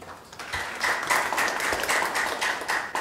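Audience applause rises and holds at a labor union meeting as a speaker is welcomed, a steady wash of many hands clapping at moderate loudness.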